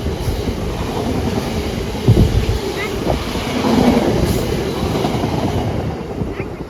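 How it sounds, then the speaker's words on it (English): A Class 66 diesel locomotive, 66569, rumbles past hauling an aggregates train, its steady low roar and wagon clatter continuous and fairly close, with faint wheel clicks throughout. "66569, Gerald the Rulebook Riley, hauling an aggregates train"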